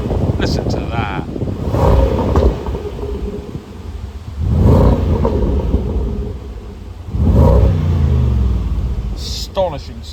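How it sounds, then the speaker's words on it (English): A 2019 Range Rover Sport SVR with a supercharged V8 revs three times close up, each swell rising to a deep growl and falling back to idle, with someone talking in between. "Give her a little rev for you as well."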